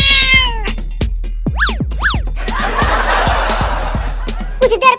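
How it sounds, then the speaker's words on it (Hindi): Two cartoon cats yowl and meow angrily in rising, wailing cries, loud and close, with thumping noises and a brief snicker-like sound near the end. "ये दोनों बिल्लियाँ कितनी गुस्से में हैं।"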